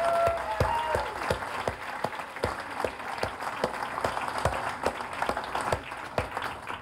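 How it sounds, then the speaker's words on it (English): An audience at a Veg Fest gives a round of applause, with sharp individual claps standing out over a dense, sustained crowd clapping that carries on steadily for several seconds. "why don't we just take 10 seconds to give a round of applause for the organizers"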